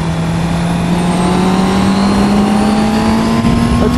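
A small new motorcycle's engine runs steadily and loud, with a rising tone as it revs slightly, close by and continuous with no talk.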